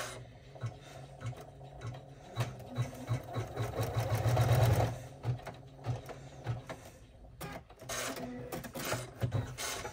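An embroidery machine stitching strap placement on a mini tote bag, running in a steady, close mechanical patter of rapid needle ticks that swells to a dense run midway, then continues in pulsing bursts.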